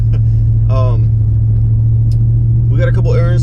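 Low, steady engine hum and road rumble inside a pickup truck cab, droning continuously while a voice briefly speaks over it.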